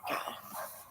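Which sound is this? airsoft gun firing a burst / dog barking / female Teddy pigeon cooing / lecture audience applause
dog barking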